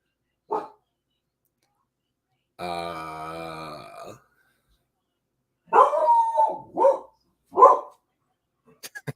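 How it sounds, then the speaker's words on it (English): A hound named Marley lets out an upset baying bark at something outside, with a long drawn howl followed by several short gruff barks, close and clear in an otherwise quiet room. "That was that was a hound bark right there."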